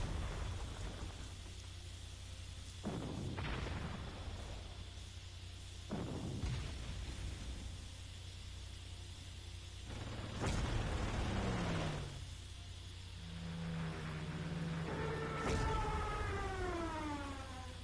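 Anti-tank unit attacks in Panzer Corps, set on the streets of Moscow: several booming impacts and bursts spaced a few seconds apart over a steady low game ambience, with a tonal sweep near the end.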